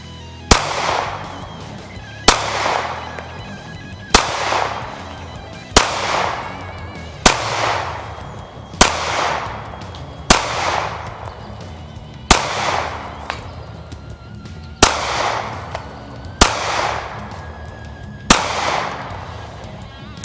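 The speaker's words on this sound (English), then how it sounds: "Let's see if I can hit anything at 15 yards with the Fiocchi 115 grain FMJ." Sharp, loud shots from a Ruger Security 9 pistol firing Fiocchi 115 grain FMJ at an outdoor range ring out at 15 yards, about a dozen evenly spaced reports, each with a short echoing decay.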